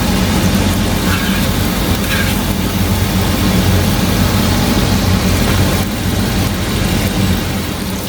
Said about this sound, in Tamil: சாரி, இந்த ஃபேன் சத்தம்,